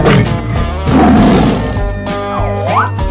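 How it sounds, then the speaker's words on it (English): A tiger roar from a children's animated animal cartoon: a short, loud growling roar blended with sweeping, tonal cartoon sound effects, with no talking. "Tiger."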